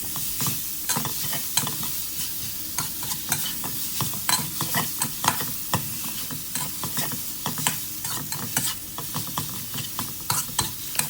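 Minced pork stir-fries in oil in a pan, a loud continuous sizzle broken by rapid, rhythmic scraping strokes of a spatula, close up with no talk.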